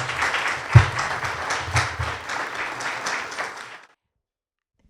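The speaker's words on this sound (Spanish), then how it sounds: "recibamos con un aplauso a Rosa Luisa Guerra" Audience applause welcoming a speaker to a talk on good writing, brisk close clapping from a modest crowd for several seconds before cutting off abruptly into silence.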